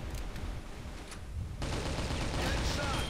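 Video game gunfire in Crossfire crackles in rapid, dense volleys that grow louder and more continuous halfway through, with a player's voice talking over the shooting.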